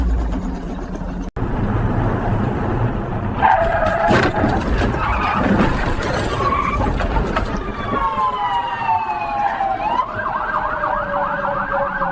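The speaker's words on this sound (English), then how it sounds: "Sirens approach and wail as police cruisers arrive." Police cruiser sirens wail loudly and close as they arrive at a two-vehicle crash, rising and falling over a rumble of traffic, with several overlapping siren tones building toward the end.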